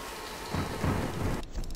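Heavy rain in a video game pours in a thick, continuous roar with a low rumble swelling underneath, briefly thinning near the end.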